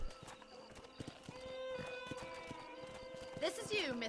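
Horse hooves clip-clop in a steady rhythm through the Red Dead Redemption video game scene, joined near the end by a loud whinny over a busy mix of game sounds.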